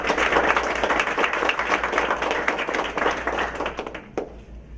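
An audience at a high school National Honors Society induction ceremony applauds, with close, dense, crisp clapping from many hands that stays loud and then quickly thins out near the end.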